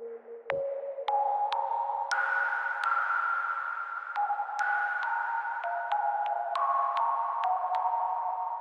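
Synth patch from the Mono Poly plays a sequence of bright, pinging tonal notes that step through changing pitches with sharp attacks, sounding clean and alone.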